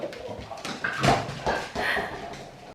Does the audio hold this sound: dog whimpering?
yes